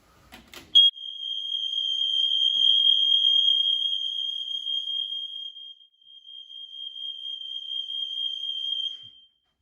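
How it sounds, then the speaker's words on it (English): Several smoke alarms sounding together during a test: a piercing, continuous high-pitched tone sounding steadily after a brief click at the start, loud and unbroken. "So that's all of the alarms going off."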